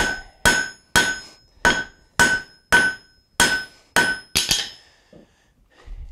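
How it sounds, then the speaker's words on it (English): Hammer blows on hot metal while forging a cooking trammel, nine sharp ringing strikes at a steady rhythm, loud and close, with no talking. "That's a lot of hammering"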